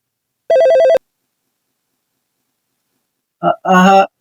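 A telephone rings loudly in a short electronic burst, falls silent for a couple of seconds, and then gives another brief, tonal ring, close and clear in a quiet room.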